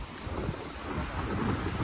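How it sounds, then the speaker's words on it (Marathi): Soft, even rain patters in the background with a faint low rumble, fairly quiet and continuous, no voices. "आता थोडासा पाऊस येतो"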